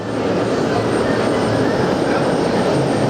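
Boeing 747-400 freighter jet at JFK airport, a loud, steady broadband engine roar that holds at full strength for the whole stretch, close and continuous with no talk over it.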